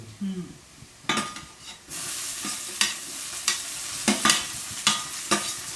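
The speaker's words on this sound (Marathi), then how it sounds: "आता आपण त्यामध्ये टोमॅटो टाकून घेऊ" Tomatoes are tipped into browned onions in a pan, and a steady frying hiss follows, broken by repeated sharp scrapes and clinks of a spoon stirring against metal, close up.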